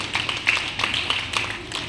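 Audience at a school Republic Day function claps to welcome a student, a sparse, uneven patter of hands with individual claps standing out, fairly near and moderately loud.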